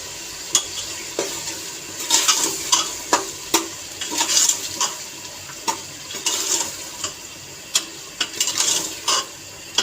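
Potatoes fry with a soft sizzle while a utensil scrapes and stirs the pan in repeated, uneven strokes, close by.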